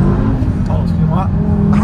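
An Audi TT RS on a country road gives a loud, steady engine drone with a rising turbo whoosh, heard from inside the car while people talk over it.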